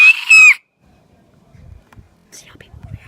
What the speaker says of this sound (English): The first one I like to call is a scream.